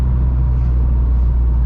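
A 600hp Mitsubishi Evo 9 accelerates under load, a loud, steady low engine drone heard from inside the car for a brief stretch, with no speech.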